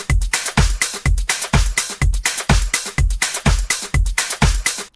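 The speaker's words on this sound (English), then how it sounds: "So okay, I added some more percussion to the loop." A looping electronic drum pattern built in Reaper, with punchy kicks on a steady beat and extra percussion hits layered over it, playing loud and continuous with no voices.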